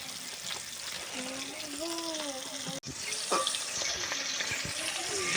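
Fish fries in a pan under a steady soft sizzle, with a brief voice rising over it midway and a short dip in the sound before the hiss resumes.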